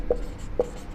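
Chalk or marker writes Sanskrit verb forms on a board in a classroom lesson, two short soft taps against a low steady room hum.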